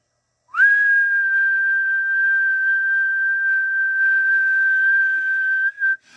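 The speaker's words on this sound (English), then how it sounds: "Stand by, I'm going to give a whistle." A person whistles into a ham radio microphone to tune a Yaesu FT-757GX transceiver's auto tuner on the 40 m band. One clear, steady whistle of one pitch is held for about five seconds, close and loud.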